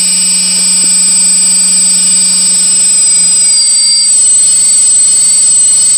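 A spinning maglev hover disk motor gives off a loud, steady high-pitched whine over a constant low hum, with the pitch wavering slightly as it holds speed.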